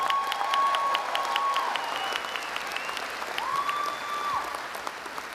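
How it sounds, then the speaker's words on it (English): A commencement ceremony audience bursts into sustained applause, dense crowd clapping that holds steady for several seconds, with a few whistles or tonal cheers rising above it. "let's give that a round of applause, we love it."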